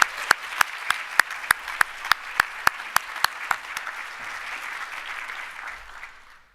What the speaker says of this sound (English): Can you join me in giving Java another round of applause, please?